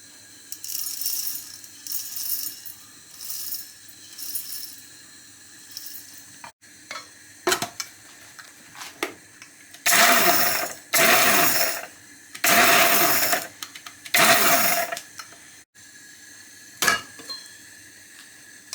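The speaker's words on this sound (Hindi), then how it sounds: "धनिए को और ज़ीरे को हमने ऐसे दरदरा सा पीस लिया है।" An electric grinder coarsely grinds roasted coriander and cumin seeds in repeated bursts. Short pulses come first, then longer, louder whirring runs with rattling seeds, separated by brief pauses.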